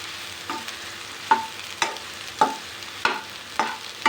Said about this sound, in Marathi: तेल गरम झालेलं आहे, ते सगळे सोयाबीन मी याच्यामध्ये मस्त असे भाजून घेते